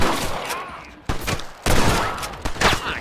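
Gunfire in the Western game Red Dead Redemption rattles in loud, close bursts and scattered shots, overlapping one another, with shouting voices mixed in.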